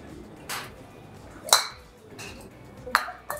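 A PING golf club, last year's model, strikes a ball on a practice range: a few sharp, bright metallic pings spaced about a second apart, close and moderately loud over faint background.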